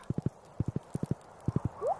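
A horse in the Stardew Valley video game trots with crisp, evenly spaced clip-clop hoofbeats in quick groups of three, loud and close, ending with a short rising whinny.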